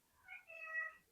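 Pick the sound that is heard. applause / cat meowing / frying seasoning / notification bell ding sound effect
cat meowing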